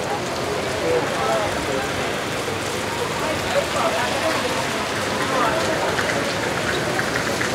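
Steady rain falls with a dense, even hiss at an outdoor motorcycle club gathering in Cagayan de Oro, constant throughout with no clear pauses.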